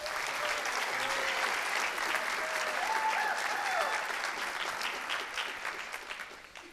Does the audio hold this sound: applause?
yes